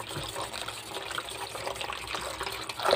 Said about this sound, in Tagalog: Kaya isa-isahin natin ng hugas.